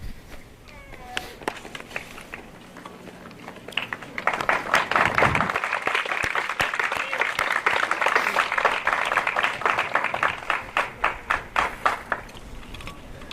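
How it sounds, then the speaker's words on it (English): An audience at a technical college honors and awards ceremony claps for inductees and charter members; sparse claps build into a sustained round of applause, then thin out into scattered claps near the end. "standing and giving them a round of applause"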